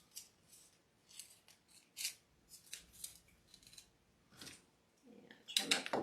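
Scissors snip repeatedly while trimming the bottoms of wreath bundles, a close series of crisp, uneven cuts and rustles that grows louder and denser toward the end.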